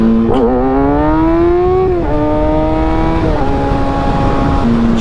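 Motorcycle engine revving hard through a power wheelie, one steady loud whine climbing in pitch, dipping briefly and climbing again across gear changes, close by with no talking.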